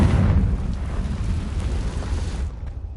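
A Confringo spell detonates in Hogwarts Legacy with a loud, deep booming blast that rumbles and crackles for over two seconds before tailing off into near silence.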